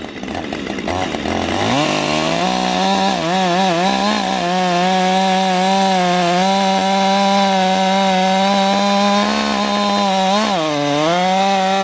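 Chainsaws, including a Husqvarna 562 with a 20-inch bar and full-chisel chain, cut into a very large rotten tree, engine loud and steady for nearly the whole span, pitch dipping and rising as the chain bites wood, no talking.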